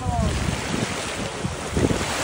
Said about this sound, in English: Waves are getting him.